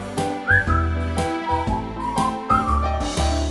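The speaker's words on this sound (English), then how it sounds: "just purse your lips and whistle, that's the thing" Melodic whistling of the tune from a song, clear and close over a soft instrumental backing, in short gliding phrases.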